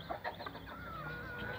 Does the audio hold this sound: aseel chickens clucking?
yes